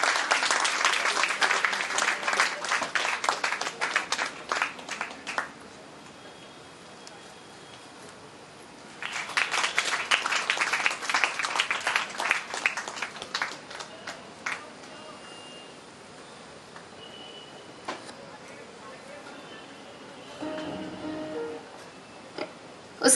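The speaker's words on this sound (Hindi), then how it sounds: "तालियां बजती रहनी चाहिए दोस्तों" A crowd at a college carnival welcome ceremony in Nagpur bursts into applause twice, each round lasting several seconds, with quieter room noise between and after the bursts.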